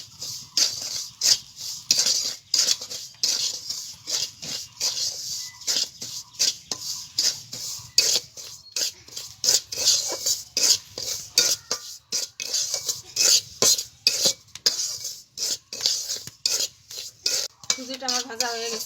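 Semolina dry-roasting in ghee over low heat in a kadai, a steady run of close scraping and stirring strokes from a metal spoon against the pan, with faint background noise and no talking.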